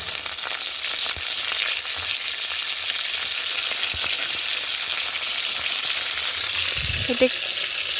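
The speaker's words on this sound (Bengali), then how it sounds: "এটা একটু লাল লাল করে ভেজে নেব বন্ধুরা।" Potatoes and cauliflower fry in hot oil with onion, a steady, loud sizzling hiss throughout, with a brief soft clatter of stirring near the end.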